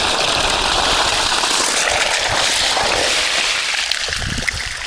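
Water gushing from a 3 HP solar water pump pours in a steady, loud, close rush, with a low hum beneath.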